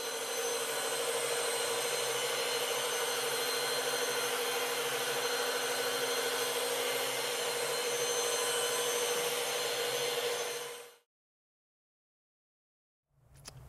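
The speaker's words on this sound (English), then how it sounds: "Remember when you're polishing to go with the rotational direction of the machine." A rotary polishing machine buffs Permasolid HS Race Clear Coat 8700 on a blended automotive panel, a steady loud whirring drone that runs unbroken for about eleven seconds, then cuts to silence before a faint sound returns at the end.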